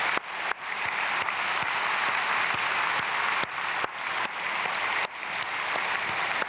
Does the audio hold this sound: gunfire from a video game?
no